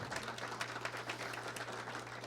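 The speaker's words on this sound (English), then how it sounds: "One more round of applause, Dr. Mitchell and VIMS." An audience at a yacht club talk on coastal communities and rising seas gives a round of applause, a dense, steady patter of many hands over a low room hum.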